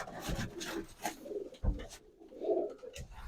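Pigeon cooing, from a racing hen brought from Portugal, soft and close, with a low rolling coo in the middle and a little rustling around it, no talk.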